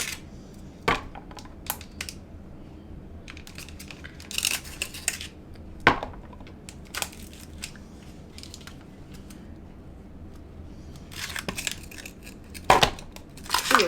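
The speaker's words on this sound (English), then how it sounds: "I'm going to add a bunch of ice" Ice cubes cracking and clattering loose from a tray for a drink, a series of sharp, irregular snaps and knocks up close, with quiet gaps between them.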